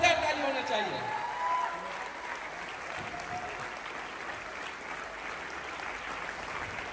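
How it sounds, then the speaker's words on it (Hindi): Audience rising for a standing ovation at a program held in a hotel, with dense, sustained applause filling the room evenly after a brief voice at the start. "एक जोरदार ताली होना चाहिए, वो भी खड़े होके।"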